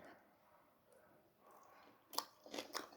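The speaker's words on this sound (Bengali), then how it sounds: "আমি করলা সেদ্ধ খাচ্ছি" Someone bites and chews boiled bitter gourd (karela), with a few quiet, close crunching bites clustered near the end after a near-silent stretch.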